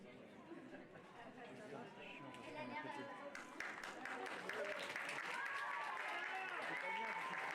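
Audience clapping for prize winners at a pony show-jumping awards ceremony for a cadet team event, building into steady, moderately loud applause with crowd chatter underneath.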